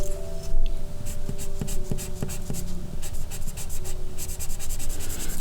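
A pencil scratches freehand across paper in short close strokes, quick and rhythmic, with a faint background hum and no speech.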